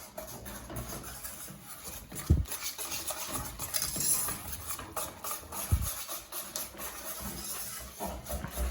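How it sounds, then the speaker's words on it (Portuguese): Eggs and sugar being stirred together in a bowl for a chilled blackberry pavê, with soft, irregular scraping and a couple of sharper taps of utensil against the bowl, fairly quiet and without talk. "Misturo os ovos com o açúcar"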